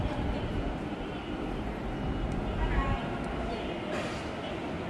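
An EMU900 ten-car commuter express train rolls into Taichung station, a steady broadband rumble of wheels and motors holding throughout at moderate loudness, with a faint station announcement voice beneath.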